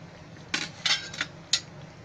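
Two lumps of jaggery drop into a pan of rice kheer, giving a few light, close knocks and clinks against the metal over about a second, otherwise quiet.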